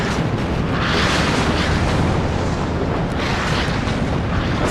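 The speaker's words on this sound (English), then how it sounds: "Look at that artillery" Artillery barrage in the Cold War strategy game WARNO, a dense, continuous roar of overlapping explosions, loud and close, with no breaks between impacts.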